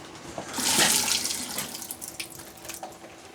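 Water runs from a tap in a room being built for a large solar power system, a steady close hiss that swells then eases, with light splashing and clatter.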